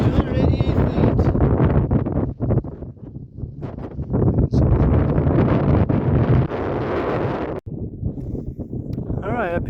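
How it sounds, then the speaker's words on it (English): Strong gusting wind of about 40 miles per hour at the 6,288-foot summit of Mount Washington buffets the microphone in loud, continuous roaring bursts, with a brief lull near the end. "It was super windy up there, about 40-mile-per-hour winds, really strong."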